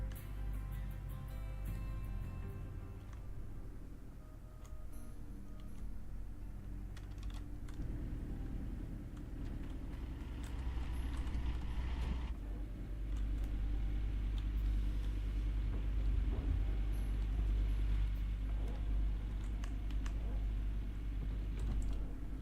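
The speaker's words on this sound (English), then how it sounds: "I love watching the plant just work and chew through stuff." A gold wash plant runs steadily, processing material with a continuous low mechanical rumble and clattering that thickens and grows louder partway through, with no talk over it.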